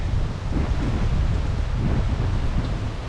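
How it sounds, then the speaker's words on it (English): Strong wind gusts roar steadily across a campsite during solo van camping, a loud, continuous low rumble that buffets the microphone for the whole stretch with no one speaking. "Here comes the wind back, that's neat."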